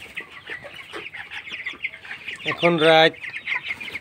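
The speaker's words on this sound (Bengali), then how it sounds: "এটা মোরগ আর এটা আছে মুরগি" Broiler chickens from Paragon company chicks, a rooster among hens, cluck in a small poultry shed at night, with a louder drawn-out rooster call near the end. A person speaks over the flock.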